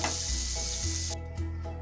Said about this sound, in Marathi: आता यामध्ये मी हे बटर घालत आहे.